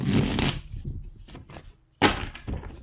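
Tarot cards riffle and flap in short bursts, one quick shuffle, a quiet pause with soft handling, then another brisk riffle close up.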